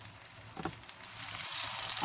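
A little oil sizzles softly in a frying pan before vegetable patties go in, a steady hiss that builds slightly louder toward the end, with a faint clink early on.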